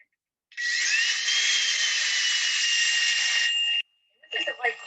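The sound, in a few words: drill boring into live wet wood for bonsai grafting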